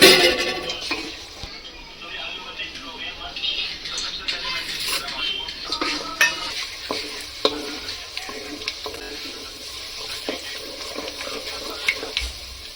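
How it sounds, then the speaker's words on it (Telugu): Dried chilies and spices being stirred in hot oil in a pan for Andhra mango pickle (avakaya), with a steady close sizzle broken by scattered scrapes and clinks of the spoon against the pan. "వేగే వరకు బాగా కలపాలా."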